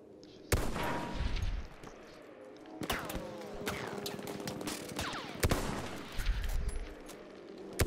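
Gunfire in the video game Battlefield 1, with loud sharp shots bursting at intervals over the rumble of a nearby tank battle, and a player talking faintly between bursts.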